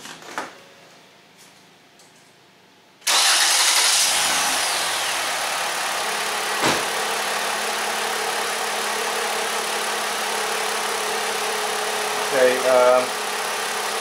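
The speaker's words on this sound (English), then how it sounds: "I'm gonna start the car real quick." A Ford Escape with an EGR flow fault starts up with a sudden loud crank and catch, then settles into a steady, close engine idle that runs on, with a brief rattle near the end.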